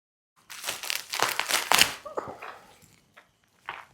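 Packaging crinkles and rustles as a parcel of books is unboxed, a burst of close, dry crackling and tearing for about two seconds, then a few softer scattered rustles.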